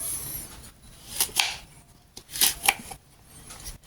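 Peel is pared off a kaffir lime by hand in short, close scraping and tearing strokes, coming in a few quick bursts with quiet pauses between them.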